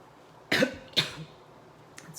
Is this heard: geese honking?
no